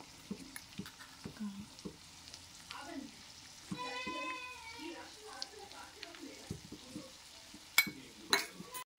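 Chicken fries in a pan with garam masala and ground masala powder for Hyderabadi chicken dum biryani. A soft sizzle runs throughout, broken by scattered stirring clatters and a sharp burst near the end, while a voice talks over it.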